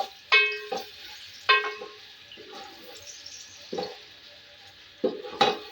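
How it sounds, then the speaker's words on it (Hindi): Onions fry in hot ghee for a chana pulao, with bursts of sizzling and scraping as they are stirred in the pan, several separate stirring strokes spaced a second or so apart over a low background hiss. "अब हम इसके अंदर प्याज डालेंगे और इसको फ्राई करेंगे अच्छी तरह"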